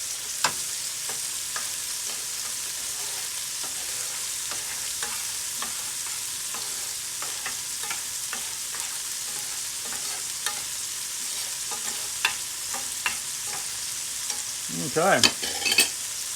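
Garlic, shrimp and scallops sizzle in a pan with a constant close frying hiss, scattered pops and stirring clicks, and a brief spoken word near the end.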